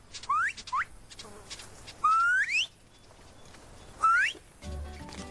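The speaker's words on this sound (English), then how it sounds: "is whistling to attract a honeyguide" A Maasai man whistles to call a honeyguide bird: short, bright, rising whistles, two quick ones, then a longer sweep and another after a pause, close and clear over a quiet outdoor background.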